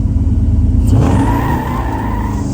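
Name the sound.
1957 Chevrolet Nomad engine accelerating through the gears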